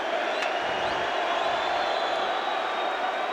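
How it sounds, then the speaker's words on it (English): An NHL hockey arena crowd in Toronto fills the air with a dense, steady roar of applause and cheering after a save by Chicago goalie Ed Belfour, broad and continuous with no voice on top. "And the crowd applauds the work of Belfour to start this third period."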